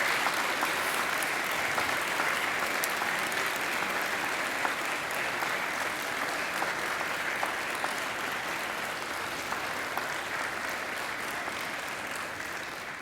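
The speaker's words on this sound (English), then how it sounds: "give them, in thanks, a mighty round of applause" Graduates at a university ceremony give a long, sustained round of applause to family and friends, a dense, even wash of clapping from a large crowd that holds steady and tapers slightly near the end.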